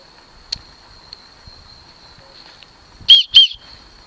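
A survival whistle built into a backpack chest-strap clip gives two short, shrill, loud blasts in quick succession near the end, after mostly quiet moments with a faint steady tone.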